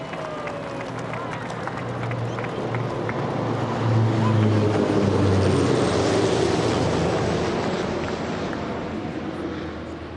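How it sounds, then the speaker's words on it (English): Pilatus PC-12 and Cessna Caravan light transport aircraft of 41 Squadron pass overhead in formation during a flypast at a presidential inauguration, a broad steady engine drone that swells to its loudest midway and then fades, with crowd noise and voices underneath. "The Pilatus PC-12 and the Cessna Caravans are from the 41 Squadron based at AFP Waterkloof"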